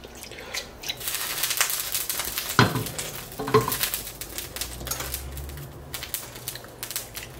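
Rice is stirred into a pan with fried chorizo for Cajun/Creole rice and shrimp, giving a steady sizzle with scraping, gritty stirring strokes and a couple of sharper clatters partway through, close and fairly loud with no talking.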